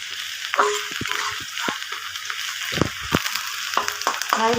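Onions and potatoes fry in a pan with a steady sizzle, broken by repeated scraping and clanking of a spatula stirring against the metal.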